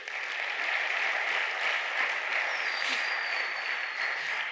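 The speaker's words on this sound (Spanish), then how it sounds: "Dar un aplauso al Rey." A church congregation applauds the King, with steady, dense clapping that holds evenly throughout at a moderate distance and no talk over it.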